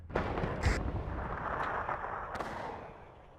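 Artillery firing in the video game WARNO, a deep booming blast with rumbling low end and a second report a moment later, both fading into a long echoing decay.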